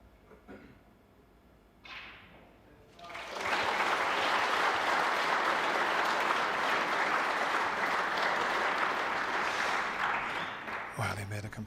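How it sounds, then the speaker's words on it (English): At a 2008 UK Championship snooker quarter-final, applause from the crowd at a neighbouring table swells after a few seconds into a loud, sustained round of clapping lasting several seconds, then fades with a thump. "There was a round of applause from the other table just as he was about to cue"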